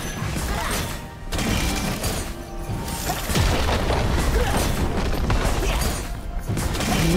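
Turret destroyed in a League of Legends match: dense, continuous game-effect crashes and booms with a heavy low rumble lasting several seconds, loud and busy, with no clear single blast standing out.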